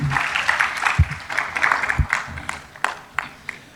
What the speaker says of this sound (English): A round of applause for all our panelists today.